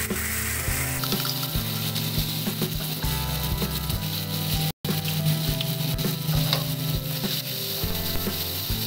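Red chili paste, blended fresh, sizzles steadily in a frying pan while a Thai-style sauce for whole snapper is cooked, a dense continuous crackle with faint clinks of stirring and one brief break.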